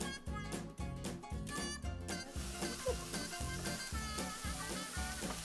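Pine nuts toast in a pan with a steady, soft sizzle that runs throughout, partly buried under loud rhythmic background music.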